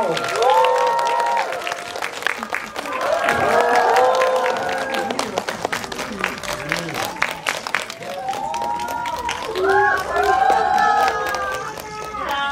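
A film screening audience applauds continuously with dense, sustained clapping, while voices talk and call out over it.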